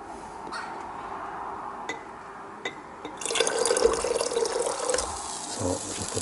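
Liquid is poured into a container during a hot chemical reaction in gold recovery, a steady splashing, fizzing stream that starts after a few faint drips and runs on close and moderately loud.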